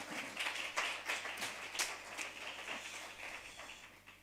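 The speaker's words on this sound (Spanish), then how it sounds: "un aplauso para Amparito, por supuesto" Audience applause at a round-table discussion on art and activism, a moderate spell of clapping from a seated crowd that swells briefly and then gradually tapers off.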